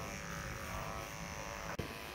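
Electric clippers shaving a horse in a stable, buzzing in a steady, even drone throughout, with one brief click near the end and no voices.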